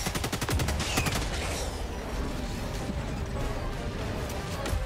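Rapid bursts of in-game gunfire from a player's weapon, rattling close and loud at the start, then dense sustained shooting and clatter continuing throughout.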